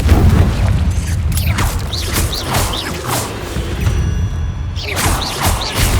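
Confringo blasting spell explosions and other spell effects in the Hogwarts Legacy video game, repeated heavy booms and crashing impacts with whooshing magical bursts, loud and close, no talk.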